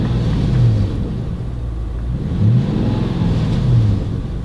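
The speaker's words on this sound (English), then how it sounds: "Give the car a little bit of a rev." A Lexus SC 430 V8 engine revs while parked, with three rising throttle blips over a deep steady idle rumble, loud and close, with no talking.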